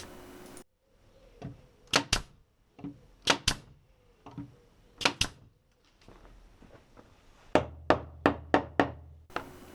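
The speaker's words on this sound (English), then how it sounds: "I'm just tapping down the bits that are sticking out slightly just so everything is flush" A hammer taps down protruding nails on a pallet wood chicken coop: sharp close wooden knocks, often in quick pairs, ending in a fast run of five or six blows.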